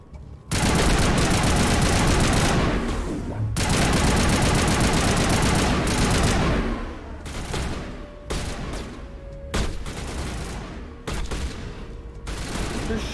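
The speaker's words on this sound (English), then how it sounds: "Who's shooting me?" Sustained gunfire in Mass Effect Legendary Edition on PS5, loud rapid bursts of automatic fire that run continuously for several seconds, then break into separate shorter volleys and single shots, with no talk over them.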